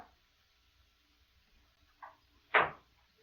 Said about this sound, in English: opened the door.